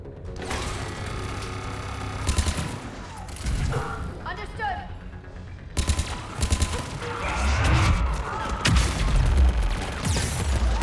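A firefight in the video game Mass Effect 3 brings rattling bursts of gunfire and mechanical clatter in uneven clusters, with people talking over the action.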